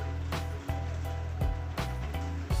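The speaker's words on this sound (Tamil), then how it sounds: "நல்லா மிக்ஸ் பண்ணிக்கோங்க." Adai batter being stirred with added water in a home kitchen, giving a steady wet sloshing and swishing with a few sharper scraping strokes, over a constant low hum.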